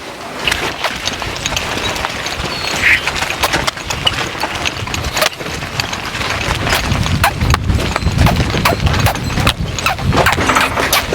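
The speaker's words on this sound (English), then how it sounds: "let's get these horses hitched up and we'll go break some hay." Draft horses Duke and Earl walk in harness while raking hay, hooves clip-clopping steadily and close under a constant low rumble of machinery.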